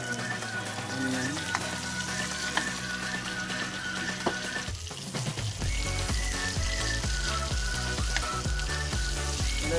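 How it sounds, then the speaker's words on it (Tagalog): Garlic and onion sauté in a pan for an affordable adobong sitaw, giving a steady close sizzle. Background music runs underneath, with a busier rhythmic section in the second half. "ihalo natin yung garlic along with tapos onion"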